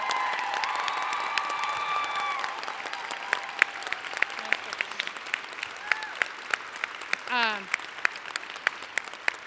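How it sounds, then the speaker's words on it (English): A closing ceremony crowd at Earp-a-palooza 2022 gives volunteers a round of applause: sustained clapping with cheers and whistles, a rising whoop, and occasional sharp, close claps standing out from the far crowd. "I just need to get a huge round of applause for our volunteers this weekend."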